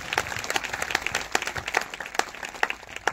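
A church congregation at a Sunday meeting breaking into brisk, dense applause, many hands clapping together at close range for a few seconds.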